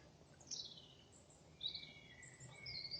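Birds sing in a forest around a tent bivouac, several thin chirps and whistled phrases coming and going over a quiet, faintly hissing background, fairly distant and soft.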